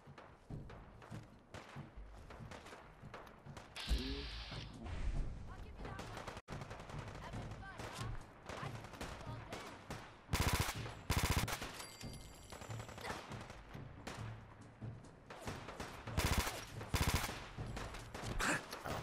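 Rapid automatic gunfire and single shots crack repeatedly in a first-person shooter game, loud bursts clustering in the second half, with scattered footsteps and thuds between volleys.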